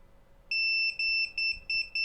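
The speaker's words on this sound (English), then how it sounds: "I'm going to use a multimeter and just make certain that these things are connected. I'm going to use beep mode." A multimeter in continuity mode sounds a high, pure electronic beep during an iPhone SE 2022 motherboard repair: one long tone, then a rapid run of short chirps cutting in and out as the probes make contact, loud and close in a quiet room.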